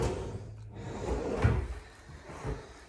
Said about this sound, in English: I need to clean in these drawers.